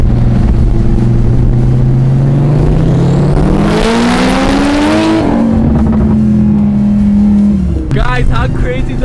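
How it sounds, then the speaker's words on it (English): A Toyota Supra revs hard and close by: a loud, steady engine note climbs in pitch over several seconds, then settles and holds before dropping away, with brief crowd voices near the end. "Guys, how crazy does that Supra sound?"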